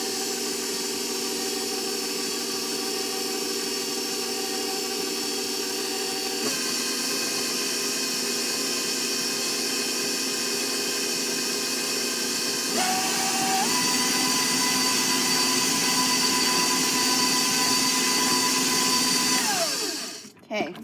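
An electric mixer whirs steadily through ginger snap cookie dough, a sustained close motor hum that steps up in speed twice before winding down and cutting off at the end.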